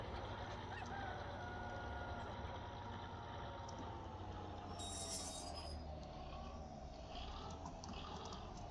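A combine harvester engine drones steadily in the Farming Simulator 15 game, a constant low mechanical hum with faint clinks, and a voice speaks briefly over it.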